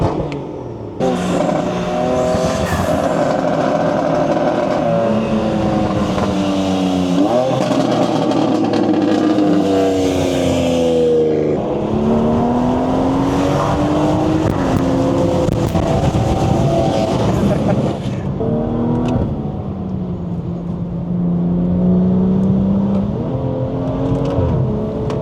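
A stage 2 tuned BMW 340i is revved hard at a gas station, its engine rising and falling through repeated sustained revs, loud and close, with a brief dip near the end.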